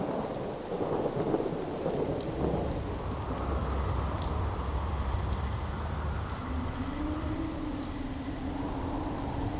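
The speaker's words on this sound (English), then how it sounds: "Hope this rain lets up soon." Rain and thunder in the video game Fallout 4: a steady wash of rainfall over deep, rolling thunder rumbles that swell and fade, continuous and moderately loud with no voices.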